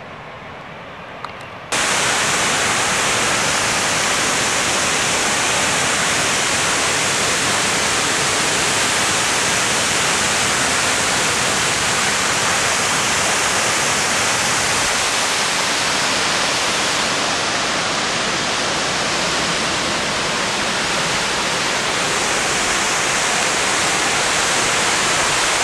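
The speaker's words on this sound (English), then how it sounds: "It's a good waterfall." The waterfall at Letchworth State Park in New York roars in a steady, dense, broadband rush, loud and close from a spot right in front of the falls, continuous for the whole stretch with no voices.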